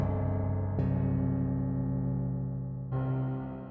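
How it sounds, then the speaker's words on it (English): Low metal plates layered with a Bösendorfer Imperial piano, struck three times with heavy, sustained ringing tones that fade slowly between strikes. "with low plates with the Imperial,"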